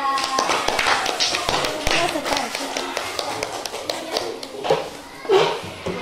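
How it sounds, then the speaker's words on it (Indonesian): Classroom applause for a student group after a presentation, a steady patter of many hands clapping at close range for several seconds, with children's voices and chatter mixed in. "Tepuk tangan untuk kelompok 3."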